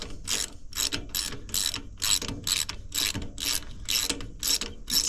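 Ratchet clicking in rapid bursts as a spark plug is worked loose from a Craftsman ride-on mower engine, about ten evenly spaced strokes, close and fairly loud with no talk.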